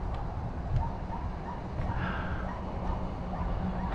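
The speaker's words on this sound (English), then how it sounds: "There's a puppy in that house barking away." A puppy barks from a nearby house, giving faint, scattered yips and woofs over a steady outdoor background with no talking.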